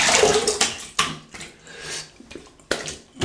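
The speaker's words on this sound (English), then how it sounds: "let's have a quick rinse and feel about." Water splashing during a wet shave, several close splashes and sloshes as hands scoop and rinse, with short pauses between each burst and no speech.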